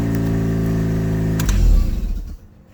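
A Mazda RX8 rotary engine, swapped from 4-port to 6-port, idles steadily on its first start, then a louder surge near the end before it cuts off and falls quiet.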